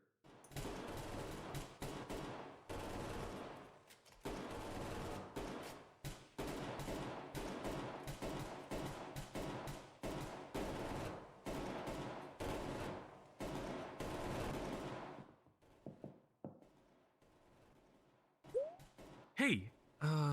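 Gunfire at a shooting range rattles out in rapid, sustained automatic bursts for about fifteen seconds, loud and close, then thins to a few scattered shots and near quiet.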